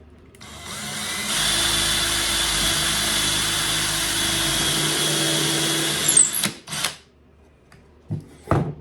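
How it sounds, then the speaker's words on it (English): Power drill pre-drilling a hole in a wooden squirrel feeder: a loud, steady whine runs for about five seconds, then stops, followed by a few short knocks and handling clatter. "Pre-drill my hole."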